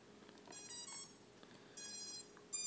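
A BugS 3 drone powers up after its battery is plugged in, giving two bursts of high electronic beeping tones, faint and close, separated by a quiet pause, with a brief click at the end.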